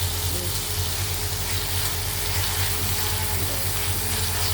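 Garlic frying in a pan with tomatoes, giving a steady, close, dense sizzle that runs unbroken throughout with no talking.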